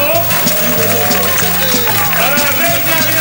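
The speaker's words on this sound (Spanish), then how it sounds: "¡Fuerte el aplauso!" A crowd gives loud, sustained applause for the spring queen at a spring festival celebration, with a band playing melodic notes and cheering voices mixed in throughout.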